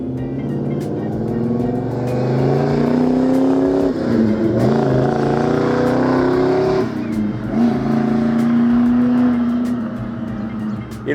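A 1972 Pontiac GTO with a 400 engine and 3-inch exhaust rumbles loudly nearby, its deep burbling note rising and falling with throttle changes as it drives past, heard alone without talk.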